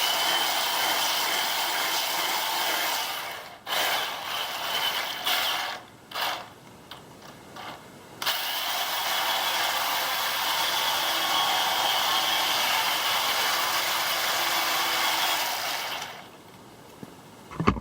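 An RC battle tank fitted with upgraded performance motors whirs with a high, buzzing mechanical drone, running in long stretches with several brief stops and restarts.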